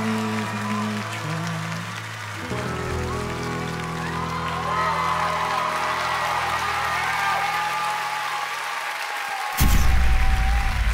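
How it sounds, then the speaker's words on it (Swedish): Studio audience applause on the Swedish TV show Idol for a contestant named Daniel, a broad steady clatter of clapping sustained across the clip with music underneath and a louder burst near the end. "Stort tack, stor applåd till Daniel."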